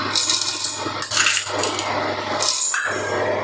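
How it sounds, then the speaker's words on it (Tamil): Whole black peppercorns poured into a bowl while making rasam, giving a few brief bursts of rattling, clinking patter with quieter gaps between, close and fairly clear, no talking. "இப்போ ரசத்துக்கு தேவையான அளவுக்கு மிளகு சேர்த்துக்கலாம்"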